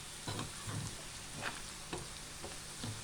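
Tuna fish pickle fries in a pan as oil sizzles steadily with soft irregular crackles and pops, close and fairly quiet, with no talking.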